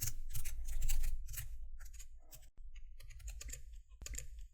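Fast typing on a computer keyboard, close and crisp, in quick bursts of clicking keys separated by brief pauses.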